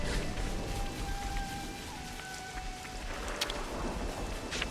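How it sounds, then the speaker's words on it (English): Steady rainfall in the Xenoblade Chronicles 3 game world, a soft continuous patter lasting throughout, with faint tonal game sounds drifting over it and a couple of small sharp ticks near the end. "Well, now it's still raining"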